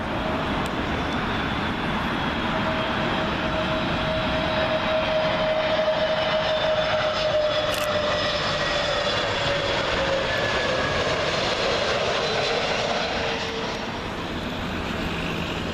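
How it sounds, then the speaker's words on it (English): A British Airways Airbus A320neo arriving from Bucharest lands on runway 27L at Heathrow, a loud, close engine roar with a high whine that builds, holds, then fades as the jet passes low overhead. "British Airways A320neo from Bucharest."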